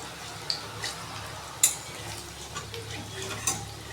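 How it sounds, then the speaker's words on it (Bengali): Banana flower kofta, shaped into round balls, fries in a pan with a soft steady sizzle, broken by a few light clicks of a utensil against the cookware. "গোল কোপ্তার মতো করে জাস্ট এটা ভালো করে ফ্রাই করে নিচ্ছি, এটা লাল লাল করে ফ্রাই করে নেব।"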